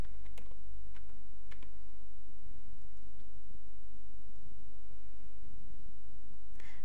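Typing a username and password on a computer keyboard to log in to project management software, heard as a few faint, scattered key clicks over a steady electrical hum and background noise.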